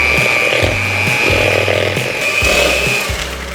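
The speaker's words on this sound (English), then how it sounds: "we're going to mix that together with our little mixer here" A small electric hand mixer whirs loudly and continuously while beating sugar for chocolate chip banana bread, its motor pitch dipping and recovering repeatedly as the beaters work through the mix.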